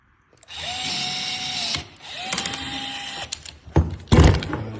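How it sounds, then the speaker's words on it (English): A cordless Milwaukee rivet gun sets a rivet during a Pelican Catch Mode 110 kayak seat riser install, with two steady motor whirs of about a second each followed by sharp, louder mechanical snaps at close range. "you just use a regular rivet gun. I have a Milwaukee rivet gun here."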